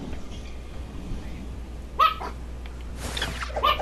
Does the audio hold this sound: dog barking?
yes